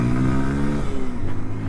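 Honda XR150L motorcycle at full throttle, a close, loud engine drone with a steady pitch that dips as it shifts, then pulses on in a choppier rhythm.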